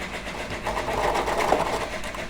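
A sewing machine top stitches a fleece scarf, running as a steady, close mechanical whir with even rhythm throughout and no talking.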